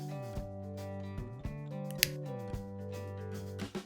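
Scissors cutting ribbons for a Halloween kids' headband give about six crisp, separate snips over steady background music.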